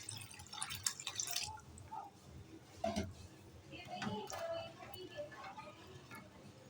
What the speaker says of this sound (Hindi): और थोड़ा सा पानी आपने और ऐड कर लेना है।